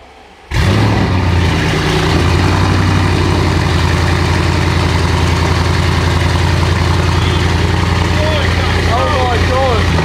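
An Audi RS6 engine fires up abruptly on a cold start and settles into a loud, rumbling idle with a deep exhaust drone, voices faintly audible underneath.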